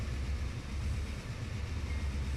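A train rolls past in the Trainz railway simulator game, a steady loud low rumble of wheels and engine filling the whole stretch without a break.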